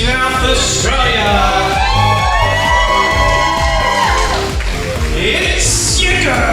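A crowd at a live wrestling show cheers and shouts continuously, loud and close, with high excited voices and whoops rising and falling throughout.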